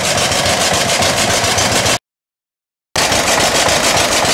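A John Deere two-cylinder tractor engine, a Johnny Popper type, runs with a loud, close, rapid pulsing chug, cut by about a second of silence before the same throbbing resumes.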